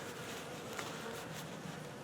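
Honey bees drone in a steady, dense buzz around an opened hive during a quick inspection, many insects close by with no voices over them.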